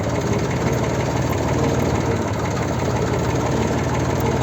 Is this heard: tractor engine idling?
yes